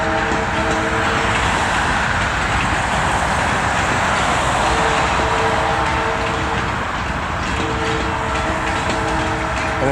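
Norfolk Southern Herzog railcar train rolling past on the former Central of Georgia line, a loud continuous rumble and rattle of wheels on track that holds steady throughout.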